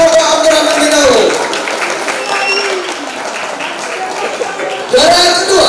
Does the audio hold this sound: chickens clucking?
no